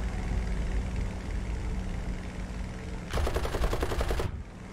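Hawker Hurricane aircraft machine guns firing in War Thunder, with a single rapid burst of about a second that cuts in sharply over a steady engine drone and then stops, with no talking.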